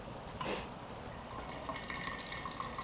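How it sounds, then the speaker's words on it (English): Kombucha poured into a half-gallon mason jar, a soft trickling liquid stream with a brief louder splash near the start, close by and alone. "Then you just go ahead and pour the kombucha."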